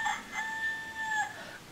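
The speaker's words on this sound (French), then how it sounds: "Le coq qui fait cocorico." A rooster crows once in a drawn-out, toy-like call heard alone and fairly faint, with a thin, tonal quality rather than a full barnyard sound.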